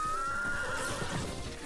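A horse neighs in Zelda: Breath of the Wild, a single drawn-out whinny sliding downward with some hoof clatter, loud and close with no speech.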